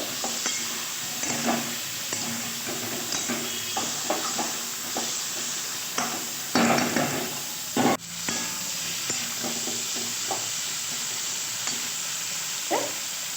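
Winter vegetables frying in a pan with hilsa fish head and tail, panch phoron, salt and turmeric. A continuous sizzle runs throughout, broken by repeated scraping stirs and clatters of the utensil against the pan.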